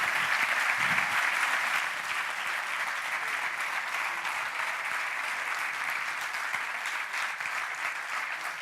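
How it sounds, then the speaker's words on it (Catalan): Sustained audience applause fills an auditorium at a magazine presentation event, a steady dense clapping texture at even loudness throughout, with no talk over it. "Un fort aplaudiment per Candy Granés"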